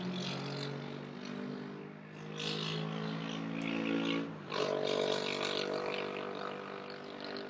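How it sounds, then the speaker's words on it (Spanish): A motorcycle passes along a street beside the Vienna Secession building, its engine droning steadily and then surging louder and closer about halfway through amid city traffic noise. "A ver si pasa la moto."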